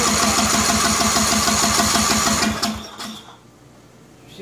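A 2000 Scotts by John Deere lawn tractor engine runs with a rapid, chugging rhythm. After a few seconds it sputters and dies into near silence.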